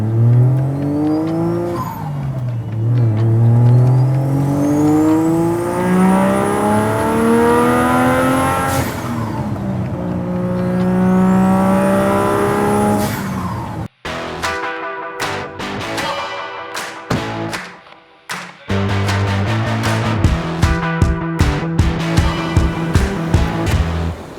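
Datsun 280Z with a swapped RB25 straight-six, revving hard with long rising and falling pulls, then a stretch of sharp blips and crackles, loud and close with no talk.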